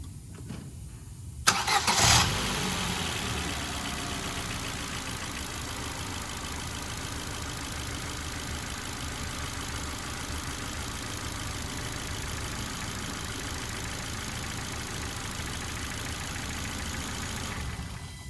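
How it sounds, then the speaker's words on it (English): Ford Fiesta Zetec petrol engine cranks and catches, then settles into a steady, slightly rattly idle heard close up and alone for the rest of the stretch. "So we'll just strike it up quick. It will just sound a little bit rattly just for a start"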